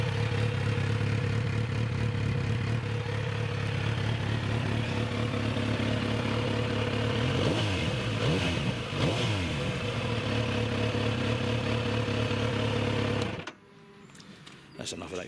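A 2019 Kawasaki Z900 RS runs close and loud, its engine holding a steady drone with a few quick revs blipping through the middle before it cuts off abruptly near the end.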